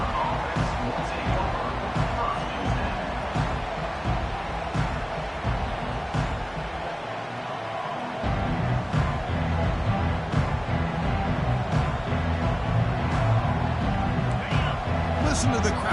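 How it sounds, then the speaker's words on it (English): A large stadium crowd at a Florida at LSU football game roars and murmurs steadily throughout, with a brief dip before the noise swells back louder, under an announcer talking. "Listen to the crowd energy here in the early going."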